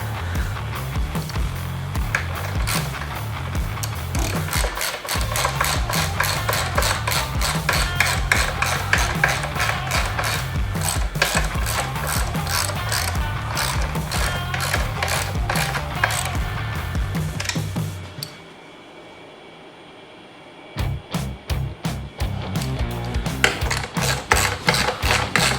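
A hand ratchet tightening the exhaust mount bolts for a Yoshimura exhaust on a Yamaha YFZ450R quad, with rapid close clicking strokes running steadily, a pause of about two seconds, then more clicking.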